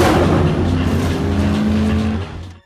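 Race cars roar away from a start line in a loud, sustained engine blast with rising harmonic tones, holding steady for about two seconds before tapering off as they pull away.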